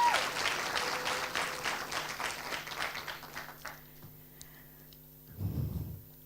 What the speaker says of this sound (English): Give a round of applause to Ms.